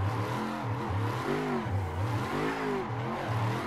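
A car engine revs in repeated cycles as the throttle is released and reapplied, its pitch falling and then rising again in a rhythmic wavering drone, steady and fairly near.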